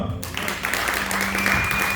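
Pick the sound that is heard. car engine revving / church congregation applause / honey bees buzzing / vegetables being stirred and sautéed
church congregation applause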